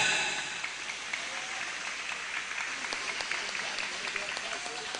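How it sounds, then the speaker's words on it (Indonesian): Sustained applause from the audience at a large open-air Islamic tabligh akbar gathering at an Indonesian pesantren, a steady dense wash of clapping lasting throughout with a few faint voices mixed in. "Tepuk tangan."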